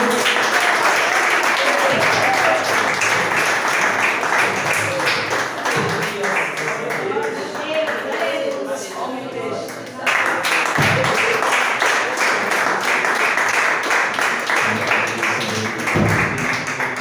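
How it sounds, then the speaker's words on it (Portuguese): A church congregation claps loudly and continuously during a family worship service, welcoming the preacher; the dense applause dips briefly midway, then surges again, with voices calling out over it. "Vamos receber o servo do Senhor, igreja, com palmas e louve o Senhor"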